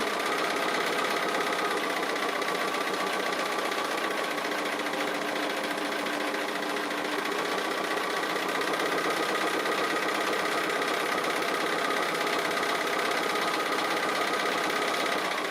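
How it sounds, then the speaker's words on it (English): Home sewing machine running steadily for free motion stitching on a tree applique quilt, a continuous fast mechanical whir and needle chatter held at even loudness throughout, close and alone with no voices. "I really enjoy this free motion stitching."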